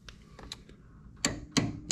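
A socket extension on a Ford F150 front coil spring and shock job is tapped down to seat it, giving a few light metallic clicks followed by three sharper, louder knocks close by.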